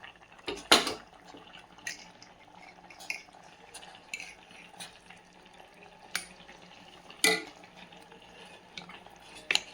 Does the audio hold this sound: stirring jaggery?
yes